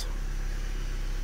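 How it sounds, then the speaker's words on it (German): An Opel Astra H engine idles steadily with the hood open, a constant low rumble close by throughout, with no talk over it. "Ja, Auto läuft wieder."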